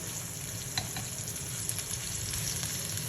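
Lamb chops fry in a shallow layer of olive oil in a pan, giving a steady, close crackling sizzle that holds through the clip, with a couple of brief sharper pops.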